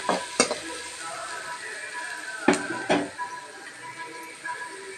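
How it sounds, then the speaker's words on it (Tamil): Onions sizzle as they sauté in a pan with cumin and curry leaves for a cauliflower stir-fry, a steady hiss broken by a few sharp clinks of a utensil against the pan. "வெங்காயம் லைட் ப்ரௌன் கலராக வதங்கி வரணும்."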